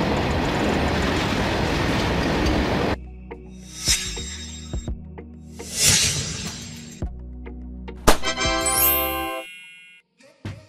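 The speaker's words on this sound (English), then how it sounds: "A freight train made up of tank cars designed to transport liquids or gases," A freight train of tank cars carrying liquids or gases rolls past on the rails, first a loud, dense rumble, then quieter stretches broken by sharp metallic clanks, rail clicks and a high squealing ring.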